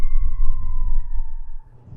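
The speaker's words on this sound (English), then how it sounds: "wonderful siren coming through" An ambulance siren passes by outdoors, a loud sustained wail that slides gradually downward before cutting out, over low traffic rumble.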